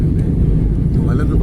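A SriLankan Airlines airliner touching down at Trivandrum airport, heard from inside as a heavy, continuous low rumble that fills the cabin, with a voice faintly present.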